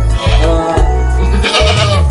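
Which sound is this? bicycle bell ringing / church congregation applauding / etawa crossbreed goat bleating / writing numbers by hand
etawa crossbreed goat bleating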